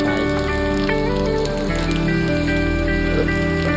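Rain falls in a steady, dense patter throughout, heard close with some tonal sounds layered over it.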